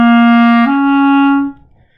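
Second clarinet part at measure 11 of a band piece: two sustained clarinet notes, the first held then a step to a slightly higher pitch that fades out, played alone and close.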